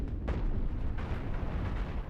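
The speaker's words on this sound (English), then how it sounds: "you saw how the whole thing just went kaboom" A spaceship breaks apart in a chain-reaction explosion in the space-combat game Cosmoteer, a loud, sustained rumbling roar broken by a couple of sharper bursts, with no talking over it.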